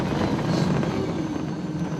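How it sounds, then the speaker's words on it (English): Passenger airplane descending to land in the U.S., a steady broadband cabin roar of engines and airflow that fills the short clip evenly without pause. "As the plane began its descent onto U.S. soil, father and son huddled closely to peer out the window."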